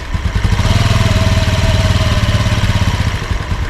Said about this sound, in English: From here we can confirm the motor does run